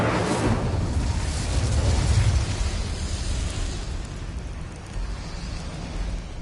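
A fiery blast from the Incendio fire spell in the Hogwarts Legacy video game: a loud, rumbling whoosh that swells in the first couple of seconds, then settles into a steady, roaring crackle.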